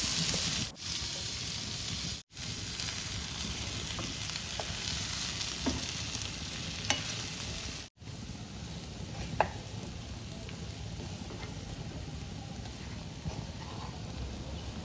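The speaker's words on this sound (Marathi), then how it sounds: "आणि आता किसलेला आपण मक्याचे पीस आहे ते सर्व मिक्स करून घ्यायचं आहे आणि छान आपल्याला परतवून घ्यायचं आहे" Grated corn sizzles steadily in a hot pan, with occasional scraping and stirring sounds, close and continuous with no talking.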